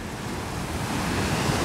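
Sea waves wash up on a Black Sea beach at Golubitskaya in late September, a steady broadband surf roar mixed with wind buffeting the microphone, close and continuous with no voices.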